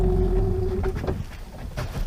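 Outboard motor boat running on the Pechora river in late autumn, with a steady low engine drone and water and wind rumble, close and continuous without speech.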